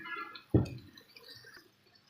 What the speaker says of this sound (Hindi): अब इसके अंदर मैं पानी ऐड कर दूंगी